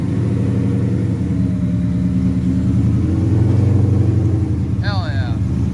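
Drift car with a Coyote engine, not yet tuned, driving: a loud, steady engine rumble that swells slightly mid-clip, with a brief high squeal near the end.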